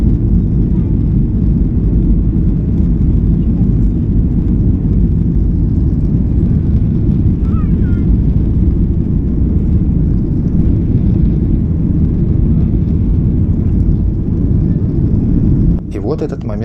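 Boeing 737-800 airliner on its takeoff run from Riga, heard from inside the cabin as a loud, steady roar of engines at full thrust that holds throughout, with a faint brief sound near the end.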